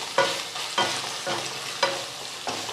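Onion-garlic masala and turmeric sautéing in a pan, with steady oil sizzle broken by four regular scraping stirs of a spoon about every half second, close and moderately loud, no voices.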